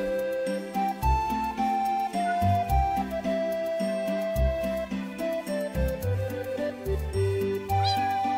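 A cat meows in Minecraft over a steady musical backing, with repeated short mewing calls mixed in among sustained tones and a light jingling.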